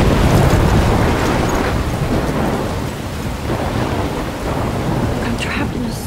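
A thunderstorm in the video game Life Is Strange roars with heavy rain and deep rolling thunder. The sound is loud and dense throughout, a continuous low rumble under the hiss of the rain, with no talking.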